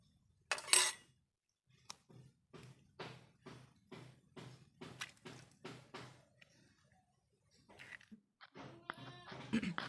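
Chicken pakora batter of gram flour, rice flour and egg being mixed by hand in a bowl, a run of about a dozen soft, wet squelching strokes with brief pauses, close and fairly quiet.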